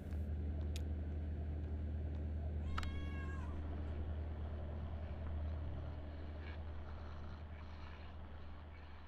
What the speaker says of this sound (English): I can record the cat